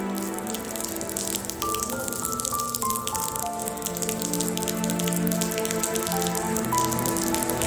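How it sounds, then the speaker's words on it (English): Rain that has just started falling on an outdoor crowd, with close raindrops pattering and dripping steadily, a few rattling hits, and faint tonal sounds beneath, no voices. "it just started raining and everybody is trying to stay dry"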